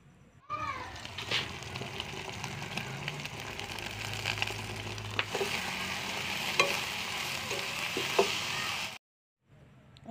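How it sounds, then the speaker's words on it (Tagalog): Onions and tomatoes sauté in a pan with a steady sizzle and stirring scrapes for several seconds, a faint meow-like cry early on, before the sound cuts off abruptly. "igisa ko naman ng sibuyas. Ako nilagay yung kamatis."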